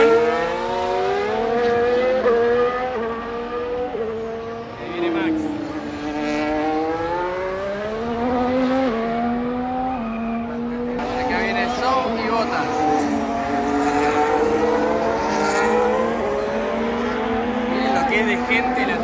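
Formula 1 cars run on track during free practice at the Mexico Grand Prix, high engine whines rising and falling as they pass, heard throughout at moderate distance with a crowd and talk in the background.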